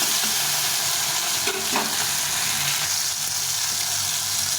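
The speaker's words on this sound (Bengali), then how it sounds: "কয়েকটা কাঁচা লঙ্কা আর টমেটোটা দিয়ে দিই" Green chillies and tomato fry in hot oil with bay leaves in a pan, giving a loud, continuous close sizzle with a brief stirring scrape partway through and no voices.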